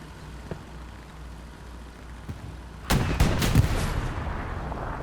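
Tank cannon shots from a 76 in Hell Let Loose follow a quiet rumbling stretch, with a sudden loud blast and several quick heavy reports and impacts that keep the low rumble going afterward.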